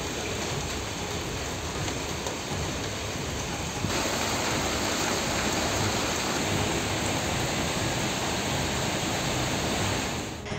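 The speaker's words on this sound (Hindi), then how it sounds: "वहीं अचानक हुई बारिश से लोग बारिश का आनंद लेते हुए भी नजर आए।" Steady rain pouring down in the hill town of Mussoorie, Uttarakhand, a dense, continuous, even hiss of falling water that fills the whole stretch without pause, moderately loud, with no voices.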